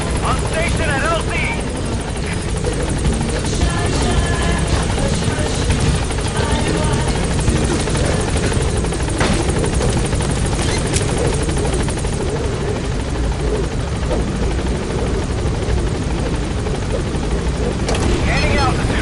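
Loud, close helicopter rotor roar and engine whine in Metal Gear Solid V as the aircraft arrives at a landing zone, steady throughout with a radio voice speaking over it.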